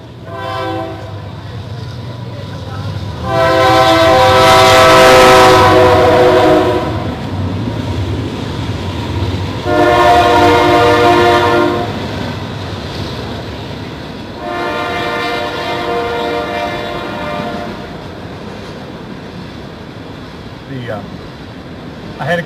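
A train passes near the governor's mansion on a busy line carrying about eighty trains a day, sounding repeated long horn blasts over a steady rumble of rail cars, loud and fairly close, with talking in the background.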